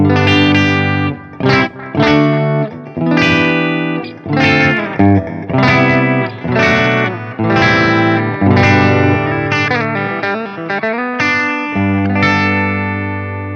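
A Gibson electric guitar combining Les Paul and ES styling is played through distortion and chorus, with strummed chords and riffs in rhythmic bursts, loud and upfront with no talking.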